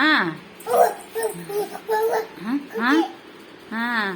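A voice, apparently a young child's, imitates a dog barking with a run of short yipping and whimpering cries in quick, uneven bursts, close and loud.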